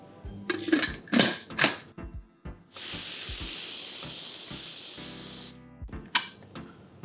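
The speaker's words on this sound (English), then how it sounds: "So, let's quickly pressure cook this." A pressure cooker cooking cauliflower dal lets out one loud, steady hiss of steam that lasts about three seconds, with clattering kitchen sounds before and after it.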